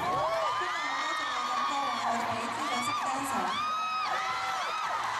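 A concert crowd at an encore cheers and whoops loudly and without a break, with many high excited voices layered into a dense, close roar.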